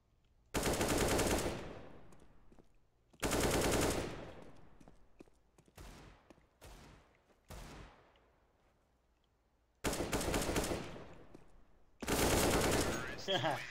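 Bursts of automatic gunfire from the video game CS:GO ring out in several loud, sharp volleys separated by short gaps, some longer sprays and some brief taps, with no clear talk over them.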